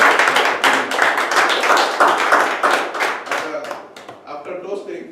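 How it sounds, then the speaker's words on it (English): Applause from a meeting audience during an event toast: dense, steady clapping from a small group close by, fading toward the end, with some voices mixed in. "please give a big round of applause"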